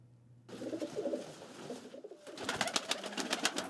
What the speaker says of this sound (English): This bird is called Armavir pigeon tumblers.